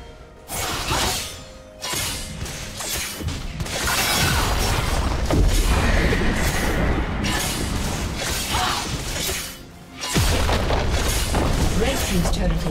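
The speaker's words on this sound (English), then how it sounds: "Red team's turret has been destroyed." A League of Legends turret being destroyed during a top-lane match, heard as loud crashing, shattering booms layered over continuous game effects and an announcer voice, with a sharp renewed burst near the end.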